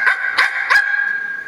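A voice actor imitates a dog barking as Ein from Cowboy Bebop, giving four sharp, high yipping barks at a steady rhythm, close and clear with no other sound.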